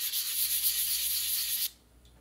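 Sandpaper rubbed over a slate turkey call striker, giving a close, bright, continuous hiss of sanding for under two seconds before it stops abruptly, leaving quiet.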